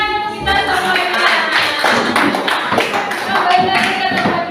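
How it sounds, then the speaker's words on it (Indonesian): A classroom group claps together in a brisk, slightly uneven patter, close and fairly loud, with voices mixed in beneath the clapping. "Tepuk tangan untuk kita semuanya."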